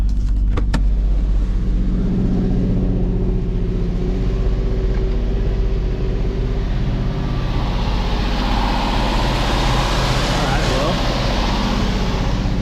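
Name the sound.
car engine revving at full RPM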